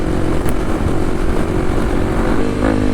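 A Kawasaki KLX dual sport motorcycle being ridden on the street, its engine droning loud and steady throughout, close with wind rush and no talk.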